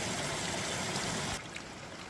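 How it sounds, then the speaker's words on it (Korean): Trickling mountain stream at Cheongtaesan in Hoengseong in April, a steady close wash of flowing water that drops off abruptly partway through. "물소리 졸졸졸 들리고요"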